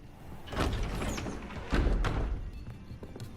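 Heavy doors grinding and thudding open in the Hogwarts Legacy video game, two dull thumping surges with a rumbling low tail, moderately loud and without talk.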